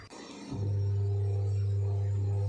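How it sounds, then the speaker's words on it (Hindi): A Samsung 6.2 kg top-load fully automatic washing machine spins up, starting with a short clatter and then settling into a loud, steady low hum that holds without pause, close by and with no talking. "मैं आप लोगों को दिखाना चाहती हूँ ये वॉशिंग मशीन कितना नॉइज़ करता है।"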